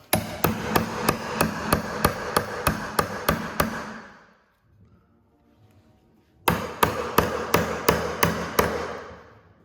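Hammer driving a chisel into a beam to cut a half lap joint, steady ringing blows in a quick even rhythm, then a short quiet pause before another run of strikes.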